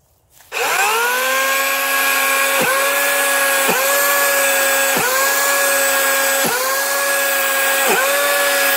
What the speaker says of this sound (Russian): Посмотрим еще одну пилу из 80-вольтовой линейки Greenworks.